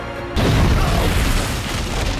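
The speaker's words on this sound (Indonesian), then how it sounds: "bom meledakkan seluruh tempat itu" A bomb blows up an entire enemy site in a war film, landing as a sudden deep boom that rolls into a long, loud, rumbling roar.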